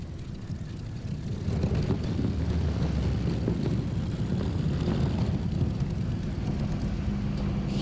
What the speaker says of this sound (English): Those 3 aero engines giving it their absolute maximum, but it's not quite enough in this case.